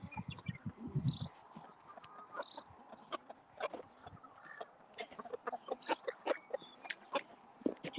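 A mother hen with her chick clucks softly nearby, repeated low clucks and short calls scattered across the clip, with faint chirps and a quiet background.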